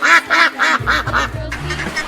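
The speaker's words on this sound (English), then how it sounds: "duck" A duck quacks in a quick series of nasal, rasping calls, several loud close quacks in a row, followed by a lower, softer run of calls toward the end.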